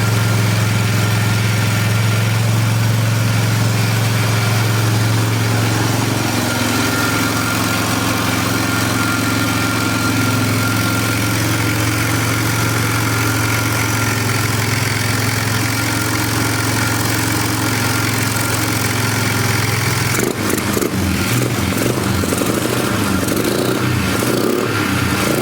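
A trashed Polaris 325 Magnum four-wheeler engine runs continuously after its first start, a steady close idle that shifts to rougher, uneven revving near the end.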